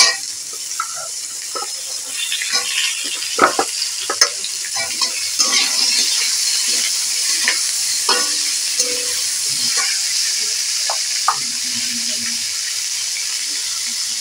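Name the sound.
papaya pieces frying in a pan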